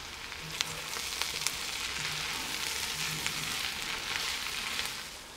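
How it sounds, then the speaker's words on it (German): Onions braising in a Dutch oven give a soft, continuous sizzle with scattered pops and crackles, fairly quiet and close, with no voices. "unsere Zwiebeln haben wir jetzt genug geschmort"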